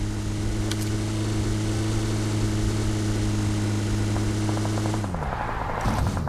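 A vehicle engine in the PUBG Mobile video game drones steadily and loudly, shifting pitch near the end as it revs, with sharp gunshot-like cracks mixed in.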